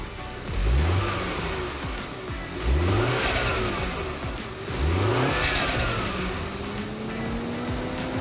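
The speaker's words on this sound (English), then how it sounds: "we will connect the battery terminals and start the engine." A freshly assembled petrol engine on a test rig cranks, catches and runs, revving up in repeated surges and settling between them, close and steady throughout.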